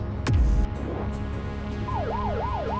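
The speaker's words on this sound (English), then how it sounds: "I want my sirens." Police car siren switched on in the video game The Precinct: a low thud and rising sweep at first, then a loud wailing siren that rises and falls in quick, regular cycles.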